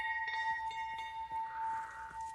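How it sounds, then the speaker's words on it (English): A bell rings in the video game Hunt: Showdown, rung to draw zombies away, a clear sustained metallic tone with a few soft knocks, heard alone at moderate loudness. "There you saw me ring a bell."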